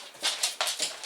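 A dog gives several quick, soft barks or yelps at an outdoor workshop, close to the microphone, with no voices over them.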